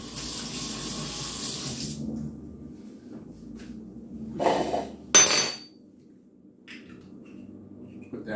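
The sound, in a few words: lid handled on a charcoal grill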